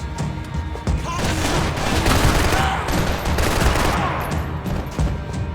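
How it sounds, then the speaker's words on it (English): Dense, rapid gunfire crackles continuously in the video game Max Payne 3, bursts overlapping like a sustained firefight with booming impacts underneath, loud and close throughout. "Gunfire over Hoboken."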